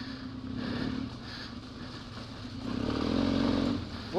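Two Honda XR 400 off-road motorcycles ride along a forest trail, their engines droning steadily and swelling louder in the last second as the throttle opens, with no talk over it.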